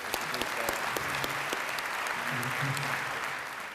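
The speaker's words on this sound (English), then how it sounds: "let's give a deserving round of applause to our honoree" Audience applause fills a luncheon hall for a youth leadership award honoree, a steady dense clapping that holds at even strength for several seconds before easing slightly at the end.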